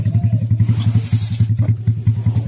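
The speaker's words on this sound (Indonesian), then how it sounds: "Dikasih tenggelam motornya tetap bunyi." A motorcycle taxi engine idles close by with a fast, steady puttering rhythm and some clattering.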